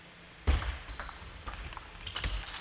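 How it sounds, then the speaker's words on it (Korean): A table tennis ball is struck hard during a smash rally at a Korean professional league match, giving a sharp crack followed by lighter ball hits against a busy arena background. "다시 스매시 받아주는 안재현 수비 성공합니다."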